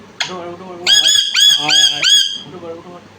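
Poultry, likely geese, call out close and loud in a rapid series of harsh, nasal honks, several overlapping calls bunched together in the middle of the clip.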